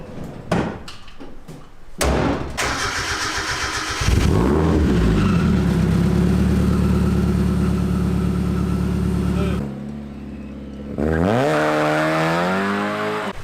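Mazda Miata engine cranking and catching after a few tries, then idling roughly and revving up loudly, close to the car with a brief drop before revving again.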